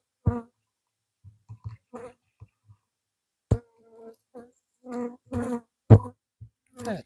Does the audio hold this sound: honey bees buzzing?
yes